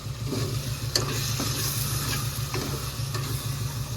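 Freshly ground masala fries in a pan for a home-cooked curry, a continuous sizzle broken by a few sharp spoon scrapes against the pan, with a low steady hum below and no speech.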